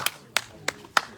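Four separate claps spaced about a third of a second apart at a live show, crisp and fairly close, with no voices over them.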